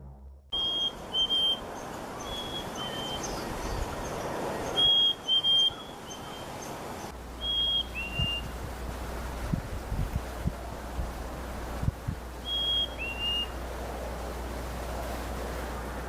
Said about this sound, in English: The whistling was made by a bird.